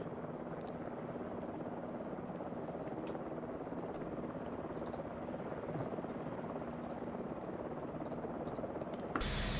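Helicopter in Microsoft Flight Simulator 2024 on a Marble Canyon to Monument Valley flight: a steady, dense rotor and engine drone that fills the whole stretch, then a change in sound at the very end.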